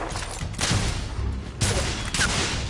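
Heavy gunfire from The Order: 1886 video game, loud dense bursts of shots and booms filling the scene, with two sharp surges of fire amid continuous battle noise.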